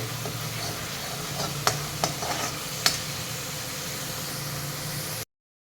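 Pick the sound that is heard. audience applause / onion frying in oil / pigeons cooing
onion frying in oil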